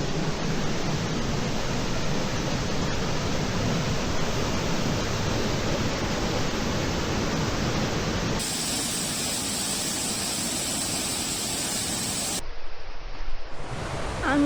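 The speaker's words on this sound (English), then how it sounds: "this waterfall wasn't on the list for today, but it was like right on my way back." A waterfall in Pisgah National Forest roars as a loud, continuous broadband rush, with the tone shifting abruptly partway through as if heard from different spots.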